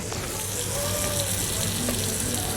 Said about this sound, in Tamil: மீன் நல்லா பொரியுதா